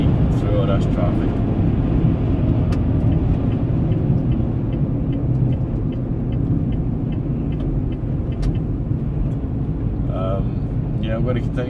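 Steady road traffic rumbles around a car driving into the city, a continuous low engine and tyre drone with passing vehicles, moderately loud throughout.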